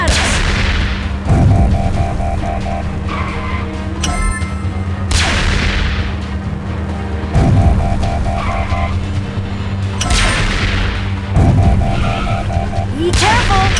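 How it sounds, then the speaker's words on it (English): Enemy robots firing in a Transformers Rescue Bots video game, with repeated booming shots and blasts recurring in bursts over steady game music and effects, loud and close. "They're shooting at us!"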